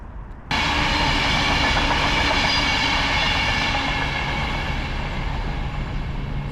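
Train running along a railway line beside a canal in Birmingham, a loud continuous roar of wheels and carriages that starts abruptly and holds steady at close range throughout, with no voices.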